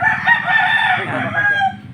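A native chicken rooster crows in a loud, strained call close by, with chicken clucking mixed underneath.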